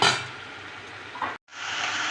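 Green chillies sizzle and fry with salt and turmeric in a pan, giving a steady close hiss that cuts out briefly and then resumes.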